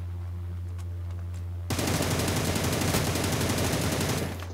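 Sustained automatic gunfire in PUBG erupts suddenly after a quiet stretch, a dense rapid burst of loud shots lasting a few seconds before cutting off.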